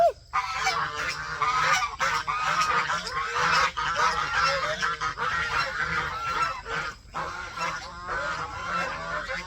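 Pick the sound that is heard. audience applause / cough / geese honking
geese honking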